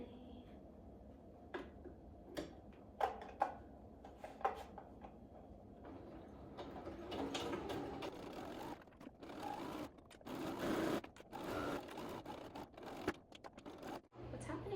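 Sewing machine stitching a skirt tier from scrap fabric, a few isolated clicks and thuds early, then bursts of steady mechanical whirring in short runs, close and fairly loud, no talk.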